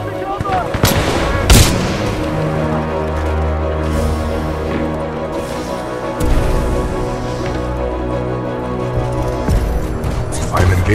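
Heavy gunfire and explosions from a mech laying down supporting fire in the Titanfall 2 campaign, with loud sustained bursts and booms over a droning score, and a synthetic voice speaking partway through.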